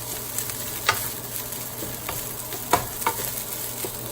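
Rice stir-fries in hot oil with onion powder, giving a steady sizzle broken by several sharp scrapes and knocks as the grains are kept moving in the pan.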